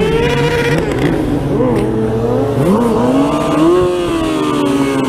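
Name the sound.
car doing burnouts and drifts at car event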